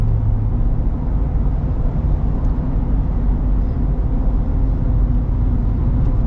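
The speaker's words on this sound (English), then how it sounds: "When I just hear that V8 just build up." A Ford Super Duty gas V8 drones loud and steady at close range, a thick low rumble that holds at one level with no voices over it.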